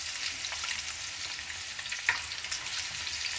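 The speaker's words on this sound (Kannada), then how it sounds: "ಫ್ರೈ ಮಾಡ್ಕೊತೀನಿ." Boiled eggs fry in hot oil with turmeric, chili powder and salt, giving a dense, continuous sizzle with a few faint spatula scrapes. The sound is close and even, with no voices.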